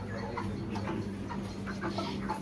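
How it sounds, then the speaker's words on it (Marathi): Native country rooster at a roadside spot in Malvan, clucking in short bursts amid busy background noise and a steady low hum. "इथे आम्ही गावठी कोंबडा घेतोय."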